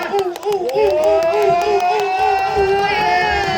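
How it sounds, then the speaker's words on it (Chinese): A crowd cheers, whoops and claps for a stunt rider performing rear-wheel spins, with loud, sustained shouting and scattered claps close by for several seconds. "大家掌声给他鼓励一下吧"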